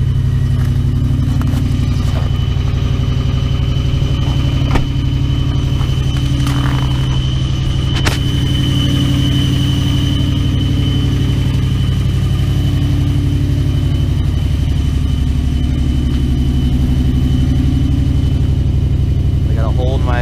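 Toyota Tundra with a 4.7L engine idling after a hard cold start at -12, with a worn exhaust: a loud, steady low rumble close by, with a few brief clicks and knocks.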